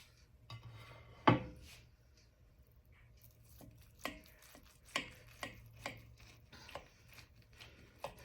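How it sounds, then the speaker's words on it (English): A knife cuts into a Korean BBQ meatloaf, a sharp clack against the board followed by a series of soft, spaced taps and scrapes, quiet and close with no talking. "we're going to slice into this"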